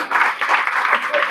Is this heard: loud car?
no